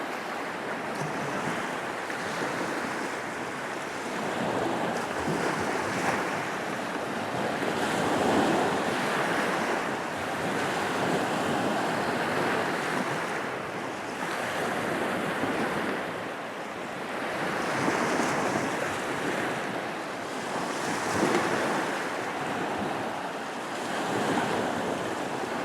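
Sea waves rolling in with steady wind buffeting the microphone, a continuous surging roar of surf that swells and eases every few seconds, with no talk.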